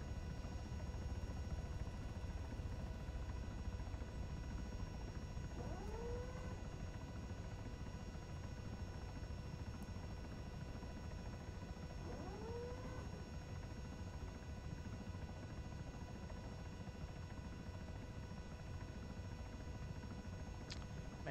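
CH-67 Huron helicopter in ARMA 3, its low-hanging main rotors giving a steady droning thrum with constant tonal whine, continuous and close, with two brief rising-falling sweeps partway through.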